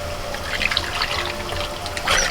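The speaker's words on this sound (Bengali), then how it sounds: "এবার দই আর বেসন যেটা আমি গুলে নিয়েছিলাম এবার ওটা দিয়ে দিচ্ছি" A yogurt and gram flour mixture pours into a pan for dahi kadhi, making a soft, wet trickling splash close by, rising again briefly near the end.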